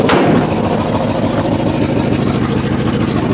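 A car engine idles steadily and loudly just after starting on its battery, with a steady rumble and a brief sharp transient at the very start.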